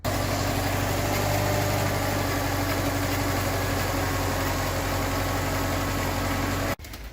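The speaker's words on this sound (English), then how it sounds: "I can verify that the car is definitely misfiring, and I can say that the car is basically running on 2 cylinders or maybe 3." A Subaru Liberty engine idles roughly with a misfire, running on only two or three cylinders, a loud, close, uneven throbbing that holds steadily before cutting off near the end.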